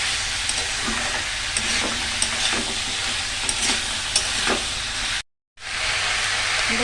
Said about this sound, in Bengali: ভালো করে কষাবো একদম ভাজা ভাজা হবে